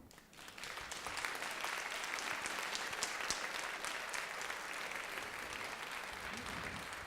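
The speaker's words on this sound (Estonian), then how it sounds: "Teeme aplausi muusikutele" An audience applauds musicians, a sustained wash of many hands clapping, steady and moderately distant, with faint voices mixed in.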